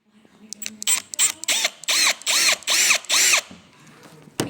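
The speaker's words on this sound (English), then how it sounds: "Now, time to get drilling." A power drill bores holes into a car bumper in a series of short bursts, each whine rising and falling, with brief pauses between, close and loud.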